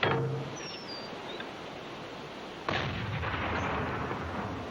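Ship guns fire at German U-boats: a heavy opening boom and a second loud blast partway through, each trailing into a long rumbling roar.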